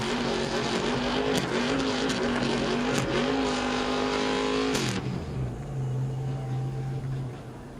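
A race car engine revs hard during a burnout with tires burning at an ARCA Menards Series West race at Phoenix Raceway. The loud, sustained roar climbs in pitch, then drops to a lower, steadier drone.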